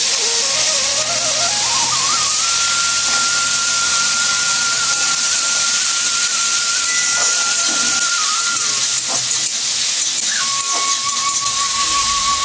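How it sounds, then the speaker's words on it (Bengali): Prawns go into hot oil with cumin seeds and fry with a loud, continuous close-up sizzle and hiss, while a thin steady whistling tone rides above it for several seconds. "এবার দিয়ে দিচ্ছি চিংড়ি মাছ কটা।"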